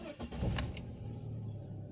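A BMW engine cranks and catches, a brief starter whirr giving way to a low, steady idle rumble heard close up for the rest of the moment.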